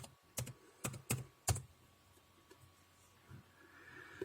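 Someone types a password on a computer keyboard during a Windows installation, a quick burst of several crisp key clicks followed by a few fainter, sparser taps in a quiet room.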